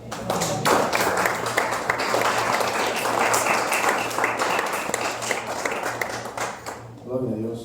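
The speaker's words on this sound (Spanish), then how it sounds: "¿Cuántos pueden dar un aplauso al Señor," A church congregation bursts into sustained, dense applause that carries on for several seconds with scattered claps and cheers, then fades as a voice speaks over the tail end.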